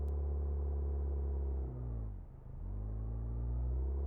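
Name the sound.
vehicle engine sounds in video game Outbrk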